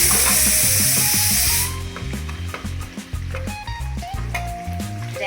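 Onions drop into a pan with spices such as star anise and cardamom, and a loud sizzling hiss fills the first couple of seconds before cutting off, leaving tonal music playing alone.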